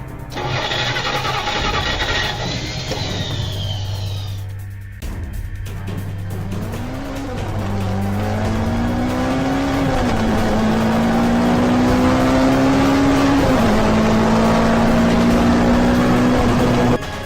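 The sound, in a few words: car driving off with tires squealing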